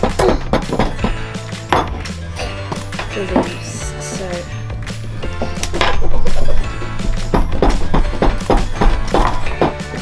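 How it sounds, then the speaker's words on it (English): A fork pries at a mangosteen on a hard surface: repeated clinks, taps and thunks of metal on rind and plate, close and busy, with people talking faintly around it. "I got it open with the fork"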